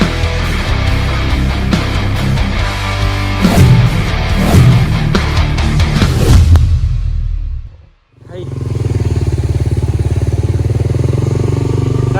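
A loud motorcycle engine roars with clattering and rushing bursts while riding through floodwater, cuts out briefly, then settles into a steady close idle.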